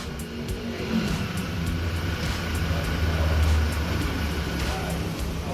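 A Toyota Innova engine, started by push button, idles steadily with a low rumble and a faint rise in revs, heard nearby under a background hiss.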